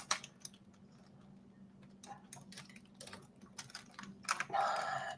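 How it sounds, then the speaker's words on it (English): Quiet, irregular clicks of typing on a computer keyboard, with scattered keystrokes building into a denser, louder burst near the end; no voices. "Once I start typing it, it's going to go for it."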